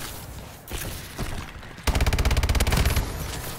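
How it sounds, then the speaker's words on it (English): Rapid automatic gunfire in Call of Duty with a KF5 weapon: scattered shots early, then a loud sustained burst of evenly spaced rounds lasting about a second, with no talking. "That was some good shooting right there"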